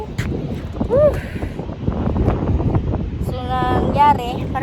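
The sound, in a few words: wind at sea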